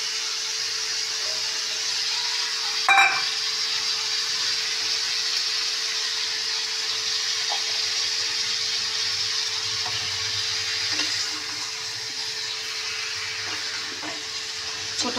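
Potatoes and prawns frying with spices in a pan and being stirred, a steady close sizzle throughout with an occasional sharp scrape or knock of the spoon.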